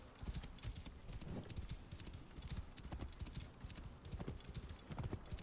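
Horse hooves clatter in a fast, steady galloping rhythm in Assassin's Creed Origins, close and continuous, with no voices over them.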